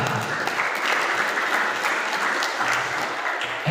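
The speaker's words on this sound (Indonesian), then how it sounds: "Tepuk tangan untuk regu A." An audience applauds team A during the final of a women's Fahmil Qur'an competition, with dense, steady clapping close by and filling the whole stretch.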